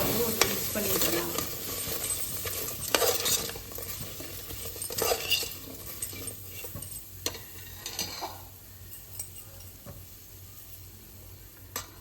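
A spoon stirs freshly roasted, ground masala into Kadamba Sadam, a rice and toor dal dish, with soft scraping and clinks against the pot over a low sizzle, close and fairly quiet.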